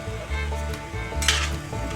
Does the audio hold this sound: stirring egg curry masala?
yes